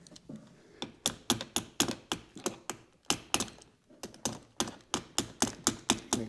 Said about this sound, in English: Hear all the little relays clicking and clacking.